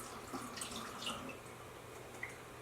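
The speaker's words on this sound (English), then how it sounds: "we're going to pour the boiled water. It's like dissolved with sugar and it's cooled down." Cooled, sugar-dissolved boiled water pours steadily into a bottle, a soft continuous trickling and gurgling under a faint background hum, with no voices.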